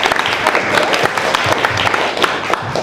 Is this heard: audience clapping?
yes